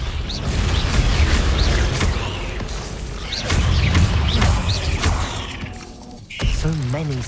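A Confringo explosive spell in Hogwarts Legacy on PS5, heard as loud booming magical blasts and crashes amid mechanical clatter, with bursts repeating through the scene and a voice briefly heard near the end.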